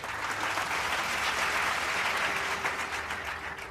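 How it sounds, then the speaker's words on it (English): An audience at a years-of-service celebration gives a steady, dense round of applause for an honoree, clapping loudly and evenly throughout with no voices rising above it. "Please join me in a round of applause for Dr."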